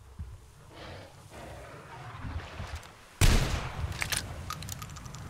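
A single sharp gunshot in the video game Metro Exodus cracks out loud after murky ambient rumble and shuffling, followed by a few fainter impacts and echoes.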